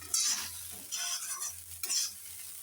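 Sabudana khichdi is stirred and fried in a pan, with quiet scraping strokes of a spoon in a repeated rhythm over a soft sizzle.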